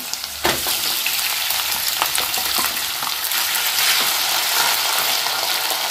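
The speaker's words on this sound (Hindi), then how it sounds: "अब अच्छे से हम मिक्स कर लेंगे अब साबुदाना डाल देंगे इसके अंदर" Sago pearls fry and get stirred in a pan with ginger, chilli and capsicum, making a continuous bright sizzle broken by spoon scrapes and light clicks, close and steady with no voices.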